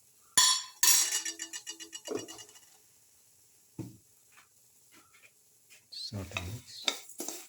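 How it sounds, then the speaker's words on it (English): Semolina soup with sugar being stirred and sautéed in a pan, a spoon clinking and scraping against the metal in a quick run of strokes, then a few scattered taps and a short burst of stirring near the end. "Saute mix."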